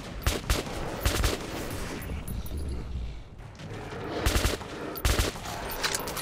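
Gunfire in Metro 2033 Redux, shown as repeated sharp bursts of shots with short pauses between them and a few heavier clustered volleys, loud and close over a dense, noisy game background.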